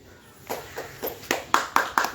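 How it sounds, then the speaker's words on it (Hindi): Several people clap their hands in a steady, evenly spaced rhythm of sharp claps that grow slightly louder, indoors at a group health and exercise session. "ताली मत बजाओ, बैठो।"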